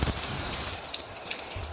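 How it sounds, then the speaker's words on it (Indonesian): Rain falls in a dense, continuous patter of droplets with a bright hiss, close and steady throughout, with no talk. "itu merupakan suara gemericik air hujan."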